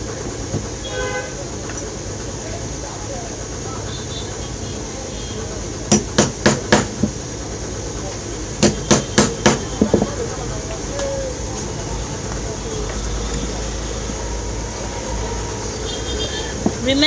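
Sharp hammer taps setting purse magnets and punching holes for a clutch purse, two short bursts of four or five quick blows against steady background noise, without voices.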